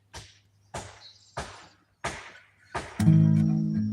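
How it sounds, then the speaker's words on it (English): Sharp pounding and chopping blows land about every half second, each ringing briefly, before a sustained droning tone swells in at the end; close and fairly loud, with no talking. "Banging and pounding and chopping and hammering."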